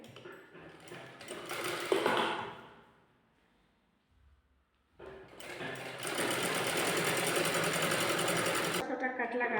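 A sewing machine runs close by, stitching a frill onto the neck of a net fabric kurti in two bursts with a quiet pause between them, while a person talks over the first burst.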